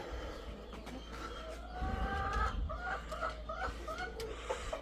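Chickens and chicks feeding, with repeated close clucks and squawks over a low rumble, plus scattered peeps and brief rustling; no speech.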